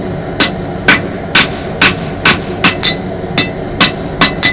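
Steel blade being forged with a hand hammer on a light anvil that bounces under each blow: about ten loud, ringing metallic strikes land in a fairly even rhythm, close by.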